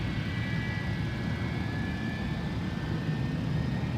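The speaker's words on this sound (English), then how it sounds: "Incredible sounds coming from the JT-8s" Aircraft with JT8D jet engines roars steadily at a distance during takeoff at Anchorage airport, a continuous broadband rumble with a faint high whine running through it.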